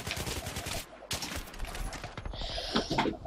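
Rapid bursts of gunfire ring out in a Battlefield 3 match, clustered shots in two dense volleys with a short gap between, followed by a higher mechanical clatter.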